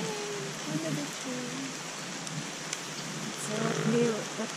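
Rain falls steadily in a rainforest while someone shelters under a tree, a dense continuous patter and hiss with people talking and a few louder drips.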